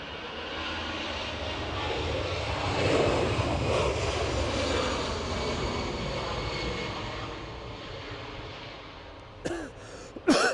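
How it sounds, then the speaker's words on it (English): Jet airliners taxiing at Edinburgh Airport, a steady, fairly distant engine roar that holds for several seconds, then a few brief, louder handling noises near the end. "United are just about to get on the runway."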